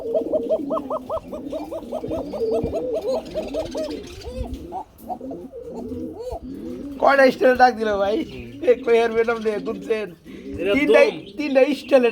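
Fancy pigeons cooing close up, repeated throaty rolling coos in steady bursts from more than one bird, with someone talking over parts of it.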